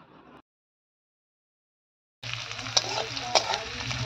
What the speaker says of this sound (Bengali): আমি এদিকে ঢ্যাঁড়সের তরকারিটা বানিয়ে নিলাম